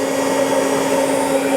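A Citizen M-20III Swiss-type CNC lathe spindle turning at 3,000 RPM gives a steady, even machine hum with a constant tonal whine, close and unbroken.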